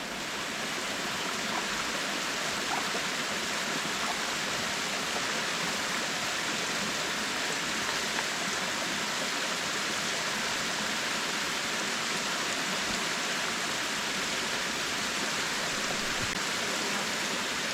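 A small waterfall and stream in a mountain forest rush with a steady, dense hiss that stays unbroken and fairly close throughout, with no voices.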